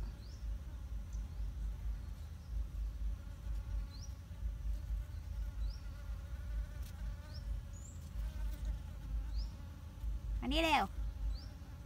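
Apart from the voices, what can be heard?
bees buzzing around flowers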